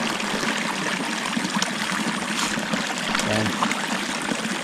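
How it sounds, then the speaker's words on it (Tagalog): Water from the supply flowing steadily into tilapia fish ponds, a continuous close trickle and splash, with someone speaking briefly over it. "Ito po yung supply ng ating tubig sa ating mga pond."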